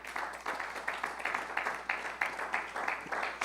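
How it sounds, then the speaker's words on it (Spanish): A church congregation claps in steady rhythmic applause offered to the Lord, a quick, even pattern of hand claps continuing throughout at moderate loudness. "Pero una ofrenda de palmas al Señor."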